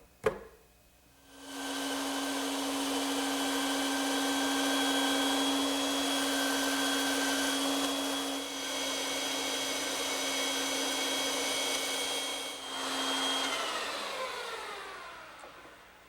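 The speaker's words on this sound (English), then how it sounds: "now I can return to the bandsaw and cut those shapes out." A bandsaw cuts wooden chair arm and foot shapes from blanks, a steady loud whine running for about twelve seconds with a brief dip near the middle before spinning down, with no talk.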